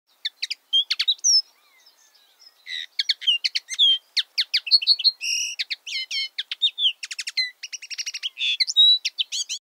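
A common linnet sings a rapid, twittering song of short chirps and trills in bursts, fairly close and clear with near silence between phrases, in a park or garden setting.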